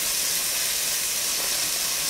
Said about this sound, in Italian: Appena frigola in questo modo